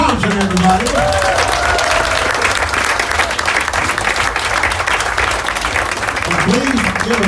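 A cruise audience applauds a panel of guests, with loud sustained clapping running the whole time and a voice briefly heard over it at the start and end.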